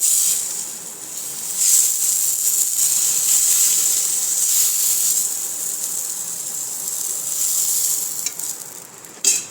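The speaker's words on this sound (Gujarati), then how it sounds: "આવી જ રીતના આપણે બધા જ પરોઠા તળવાના છે" Aloo paratha fries in a hot pan, giving a steady close sizzle and hiss that swells briefly and then keeps going, with no talking.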